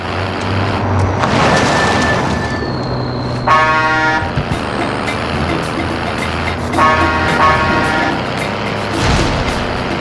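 A vehicle drives in the game Call of Duty: Modern Warfare, a steady engine rumble broken by two bursts of loud, horn-like tones, with no talking.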